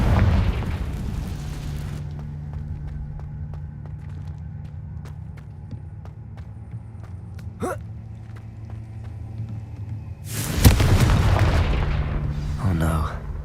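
A Confringo fire spell from Hogwarts Legacy goes off as two loud explosive bursts, one at the start and one near the end, separated by a quieter stretch of low rumbling game ambience.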